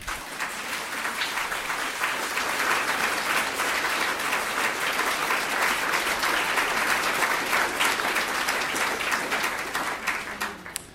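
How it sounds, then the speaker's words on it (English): A large audience at a university's 125th anniversary welcome claps steadily for about ten seconds, a dense, even wash of applause that stays at full strength before tapering at the end, with no speech. "Yes, applause is allowed."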